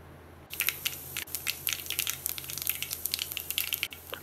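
Mustard seeds splutter in hot oil in a pan while tempering for sambar, a dense run of sharp crackling pops starting after a brief pause and continuing steadily, close and fairly loud.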